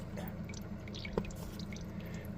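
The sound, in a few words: water trickling out of laundry after spin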